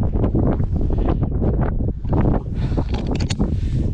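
Wind roaring steadily across a microphone while cycling downhill on steep descents in the Sibillini mountains near Castelluccio, loud and continuous with gusty buffeting throughout.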